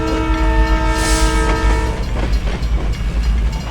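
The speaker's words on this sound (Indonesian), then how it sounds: "Kereta telah melintas" A train rumbles past at close range, its horn sounding loudly for about two seconds before the heavy rolling clatter of the cars carries on alone.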